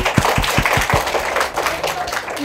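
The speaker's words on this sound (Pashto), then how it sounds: "یو چکچکې ورته وکړئ" A group in a TV morning show studio claps in a quick run of sharp, rhythmic hand claps, close and fairly loud, thinning out toward the end.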